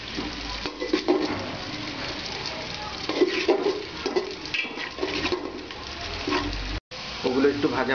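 Green peas frying with spices in a pan for home-style polow, a close, continuous sizzle with clattering stirring bursts, heard beneath a person talking.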